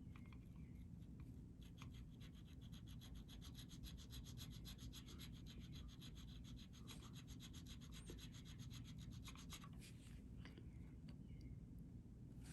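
A small file rasps at a burr in the E-string slot of the nut on a Squier Vintage Modified Jazz bass, giving quick, quiet, repeated scraping strokes close up with brief pauses.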